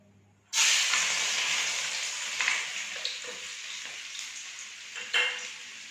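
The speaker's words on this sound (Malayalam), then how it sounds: "ഈ ഓയിലിലേക്ക് വെളുത്തുള്ളിയാണ് കേട്ടോ, അത് വെളുത്തുള്ളി ചെറുതായിട്ട് അരിഞ്ഞത് ചേർക്കാം കേട്ടോ" Finely chopped garlic drops into hot oil for fried rice, setting off a sudden loud sizzle that settles into a steady close hiss with a few soft stirring clicks, and no speech.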